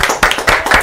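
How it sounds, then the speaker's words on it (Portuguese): Church congregation clapping together in a short, loud burst of applause, several rhythmic hand claps close by with no talk. "Vamos dar uma salva de palmas?"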